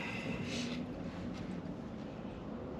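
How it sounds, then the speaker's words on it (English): Wind buffeting a microphone, a continuous low rumble with gusty swells and rushing noise, no voices. "It's getting so windy."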